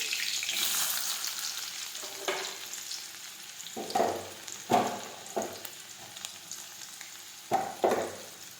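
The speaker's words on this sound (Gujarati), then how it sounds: "સમારેલી મરચી નાખીશું સમારેલા કાંદા નાખીશું" Chopped green chillies and onions hit hot oil with mustard seeds and cumin for urad dal, bursting into a loud close sizzle that settles into steady frying with a few stirring clatters.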